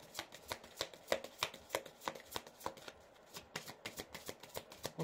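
A deck of tarot cards is shuffled by hand in quick, crisp riffles, a close series of sharp flutters at an even rhythm with a short gap midway.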